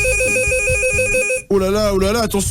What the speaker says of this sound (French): c'est le téléphone rouge, les amis, qui est en train de sonner.